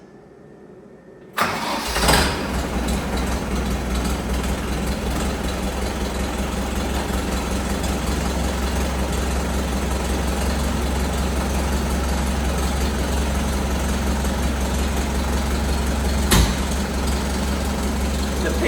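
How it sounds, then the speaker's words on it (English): A tractor engine that drives a Trident log splitter through its PTO starts with a sharp catch and then idles in a steady, loud, low throb for the rest of the run. "Just start the tractor up, and the PTO is off at the moment"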